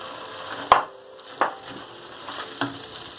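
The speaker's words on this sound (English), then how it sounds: "Now add the brinjal and potato in it." Brinjal and potato pieces are stirred in a sizzling pan for a curry, with a few sharp spoon knocks against the pan over a steady frying hiss, close and without speech.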